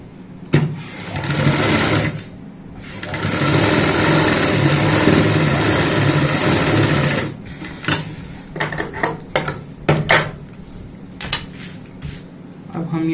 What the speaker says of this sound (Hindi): ऊपर की साइड यहाँ पे एक सिलाई लगा लेंगे